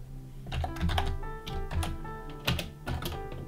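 Rapid typing on a computer keyboard while entering Flutter code, a steady patter of close, clear keystrokes with occasional louder clusters and no talking.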